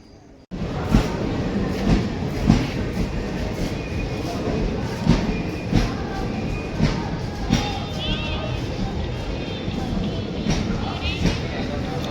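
Bhubaneswar–Dhanbad Express passenger train rolling past, a steady loud rumble of wheels and carriages with rhythmic clacks throughout, some faint voices in the background.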